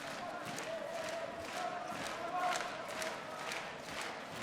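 Swedish supporters fill an arena with a steady crowd roar, with rhythmic chanting swells rising and falling over a continuous wash of noise, heard from a distance.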